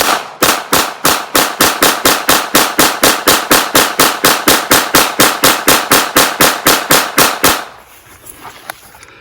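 Kel Tec PMR-30 pistol fired rapidly at a target, about thirty sharp, loud, evenly spaced shots in quick succession, followed by a quiet moment after the string ends.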